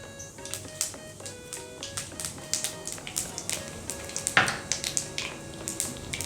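Panch phoron spices tempering in hot oil, a steady close sizzle with irregular small pops and crackles, plus a few light taps of a utensil against the pan.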